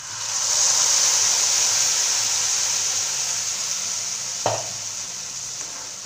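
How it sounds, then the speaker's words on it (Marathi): Ground masala paste stirred into hot oil for a spicy pea and chickpea bhaji. A loud, steady sizzle hisses throughout, with one brief knock of the spoon partway through. "आपण आता हे वाटण आहे ना छान तेलामध्ये आपण मिक्स करून घेऊ आपण"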